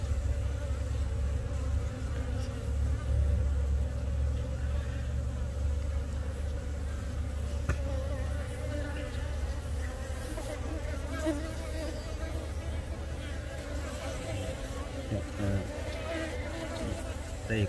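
Bees swarm at a beehive with a dense, steady buzzing drone that carries on throughout at close range. Someone talks over the humming swarm now and then.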